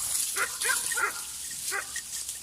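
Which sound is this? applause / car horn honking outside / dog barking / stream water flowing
dog barking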